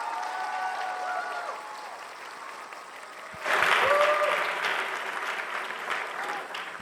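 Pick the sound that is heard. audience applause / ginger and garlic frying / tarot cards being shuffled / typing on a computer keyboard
audience applause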